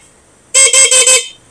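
A loud, close stock horn on an ADV160 scooter sounds in four quick, rapid bursts, then stops, with a faint hum of traffic before and after.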